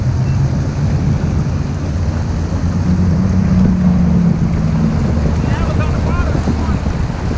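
A motorboat engine drones steadily nearby amid wind and water noise on a Florida river, heard from a jet ski, its low hum swelling slightly in the middle as it passes.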